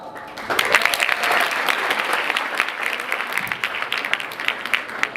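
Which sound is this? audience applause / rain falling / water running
audience applause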